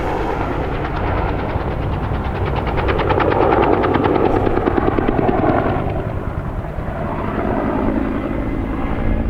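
Bell Cobra helicopter banking through a steep turn at an airshow display, its rotor thudding in a loud, steady, rapid beat over a continuous engine roar that swells and eases slightly as it passes.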